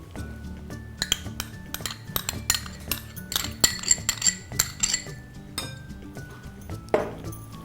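Spoon and bowl clink repeatedly as curd is spooned onto rice for Karnataka-style mosranna, a quick irregular series of close, bright metallic taps with no voices.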